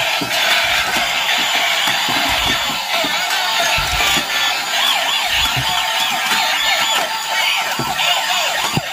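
A toy tanker truck siren wails steadily, its electronic tone rising and falling in a repeating pattern, loud and close, with faint clicks underneath.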